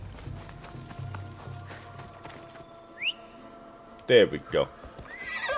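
Galloping hoofbeats followed by two loud horse whinnies in Assassin's Creed Odyssey, with someone speaking briefly at the start amid game sounds.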